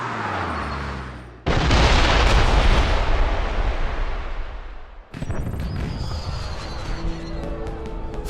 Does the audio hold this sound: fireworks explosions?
yes